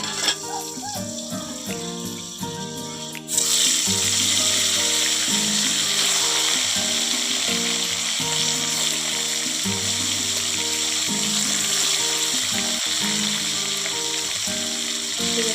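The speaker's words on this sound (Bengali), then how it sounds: "তেলটা গরম হয়ে গেছে। মাছগুলো এবারে ভেজে নেব।" Sea fish dropped into hot oil in a wok, bursting into a loud, steady sizzle after a sudden start, with background music playing throughout.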